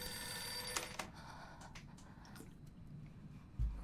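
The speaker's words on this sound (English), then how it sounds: "Last time I didn't answer the phone in time." A telephone rings faintly in the horror video game Silent Hill f, with a bright ringing burst early on and softer rings fading against a low ambient bed, no voices.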